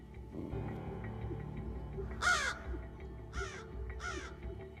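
Several crows caw in three loud, harsh bursts over a steady low background hum, each call clearly close and spaced about a second apart.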